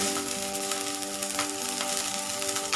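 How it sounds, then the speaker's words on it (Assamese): Hilsa fish paturi parcels wrapped in leaves frying in hot mustard oil, giving a steady, close, loud sizzle with crackling pops throughout and no talk. "তেলখিনিত এতিয়া পাতুৰিকেইটা দি দিম"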